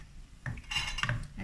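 Doughnuts being turned over in a pan of hot frying oil give a short clatter and metallic scrape of a utensil against the pan, close and fairly loud, with no talking.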